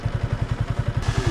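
Idling Yamaha MT-15 motorcycle engine on a ghat-road trip, a steady rapid thumping beat up close, with the cooling fan kicking in as a rising whoosh partway through.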